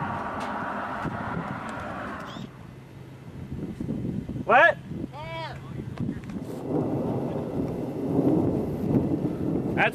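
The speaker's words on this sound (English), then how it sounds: "Thunder and stereo," Thunder rumbles low and heavy during a central USA storm, rolling in long swells with rain-like hiss, while people talk and make brief whistling sounds nearby.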